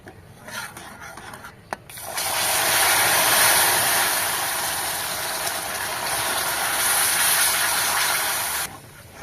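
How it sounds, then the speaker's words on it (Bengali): Water poured into hot caramel in a village kitchen sets off a loud, sustained hiss of steam lasting several seconds after a few quiet clinks, then cuts off abruptly. "এবার আমি কিছু পরিমাণ জল দিয়ে দেবো।"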